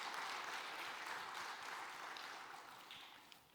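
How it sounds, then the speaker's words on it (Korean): Sustained applause from a church congregation at a Wednesday service, a dense steady clatter of clapping that tapers slightly toward the end. "우리 다 같이 박수로 격려하겠습니다"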